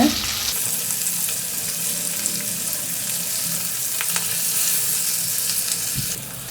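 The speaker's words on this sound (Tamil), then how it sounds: "இப்போ எல்லா பன்னீரும் சேர்த்துட்டோம். அப்படியே கொஞ்சம் வறுத்துக்கலாங்க." Paneer cubes fry in hot oil for butter masala, a dense close sizzle running throughout while a utensil stirs and turns them with occasional scraping clicks, no voices present.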